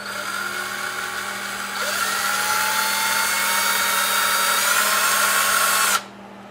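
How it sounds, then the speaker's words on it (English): A drill spins steadily, clearing rust from a clogged 1/16-inch hole in a Maytag engine part, with a high whine that rises in pitch partway through, holds for several seconds, then cuts off abruptly. "So I take a drill and stick it in there."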